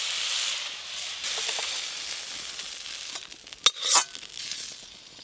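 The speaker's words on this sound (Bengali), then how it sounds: "সব গোটা মশলাগুলো খুব সুন্দর করে ভাজা হয়ে গেছে," Whole spices, garlic, ginger, onion and tomato sizzle in a hot pan for a fish masala, a steady close frying hiss broken by scraping stirs and a sharp clatter near the end.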